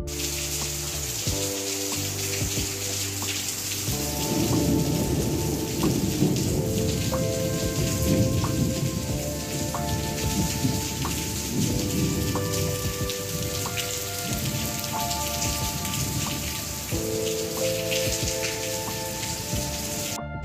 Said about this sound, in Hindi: बारिश भी बहुत तेज़ हुई है, तूफ़ानी बारिश हुई है आज लाहौर में